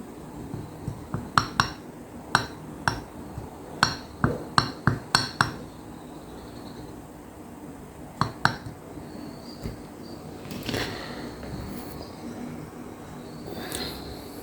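Porcelain Turkish coffee cup clinks sharply against its saucer in a quick irregular series of near taps, then a few more after a pause, fairly quiet.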